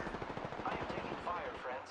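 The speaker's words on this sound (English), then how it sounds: "I am taking fire, friends." Rapid, continuous automatic gunfire from Apex Legends rattles steadily throughout, fairly quiet and even, with faint voices mixed in.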